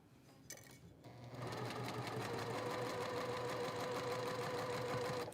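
Sewing machine stitching steadily with a quarter inch foot on quilt block fabric, a close, even mechanical whirr that starts after a brief pause and runs continuously, quiet and without talk.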